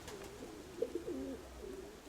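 Soft cooing of flock-trained pigeons, a few low warbling calls rising out of quiet outdoor background, moderately close.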